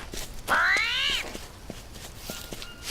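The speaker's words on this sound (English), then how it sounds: "There's a cat that spawns up here." Wild cat in the jungle survival game Green Hell gives a single loud, drawn-out meow-like cry lasting about a second, set against a steady ambient background of faint clicks and rustles.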